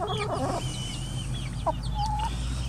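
Barred Rock hens cluck close by in short bursts, with a few higher squawks over a steady low hum.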